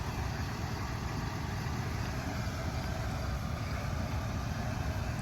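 A 1991 Ford LTD Crown Victoria fire department car with its engine running, a steady, moderately loud idle rumble that holds constant throughout.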